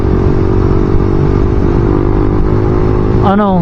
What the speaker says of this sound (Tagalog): kahit segunda, basta naka high RPM ka